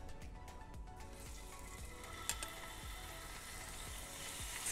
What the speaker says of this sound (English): Hit this pan with a little bit of avocado oil.